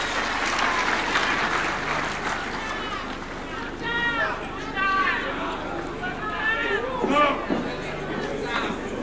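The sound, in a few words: audience applause at devolution conference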